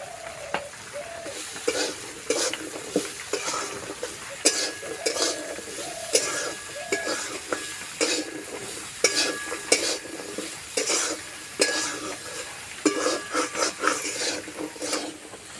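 Potatoes fry with spices in a pan for a kachori filling, sizzling steadily while a utensil scrapes and stirs them in close, repeated rhythmic strokes.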